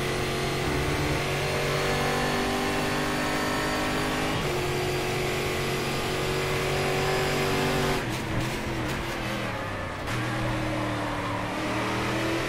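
Race car engine from Game Stock Car Extreme, a Brazilian V8 stock car at Interlagos, revving loud and close as it climbs through the gears, the pitch rising and dropping with each shift and no talk over it.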